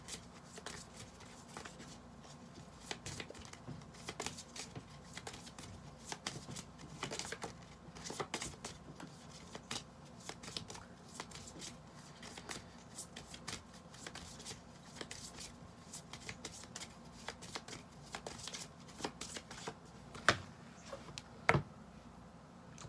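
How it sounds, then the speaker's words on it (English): Tarot cards are shuffled by hand in a long, quiet run of soft riffling and papery flicks, with a few sharper snaps near the end. "I'll just shuffle a little bit more"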